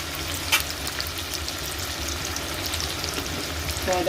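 Onions sauté in a pan for a chickpea curry with a steady, close sizzle that runs the whole four seconds, along with a few faint stirring clinks and no talking.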